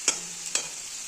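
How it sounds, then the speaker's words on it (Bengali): Potatoes frying in hot oil in a wok, with a soft steady sizzle and two sharp scraping stir strokes close by, and no talking. "দেখো আমার আলুগুলো কিন্তু ভাজা হয়েই গেছে"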